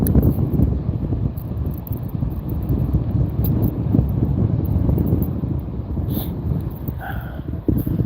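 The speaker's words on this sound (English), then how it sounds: "Like I said, this wind is challenging to say the least." Steady wind buffets the microphone beside the Penobscot River in Maine during a fishing outing, a loud continuous low rumble with no talking.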